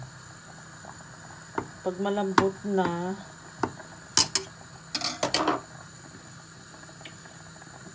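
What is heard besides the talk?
potatoes boiling in water for mashed potato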